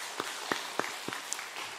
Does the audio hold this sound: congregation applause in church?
yes